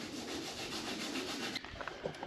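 Steady abrasive rubbing as a roller bearing from a 1939 Caterpillar D4 belt pulley is cleaned and sanded, a continuous quiet scraping texture that eases off near the end.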